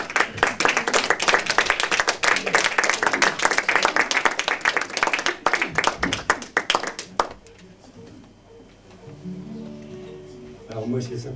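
An audience claps warmly in tribute to Pierre at a French show, a dense burst of applause lasting several seconds before it fades and a voice carries on over quieter music.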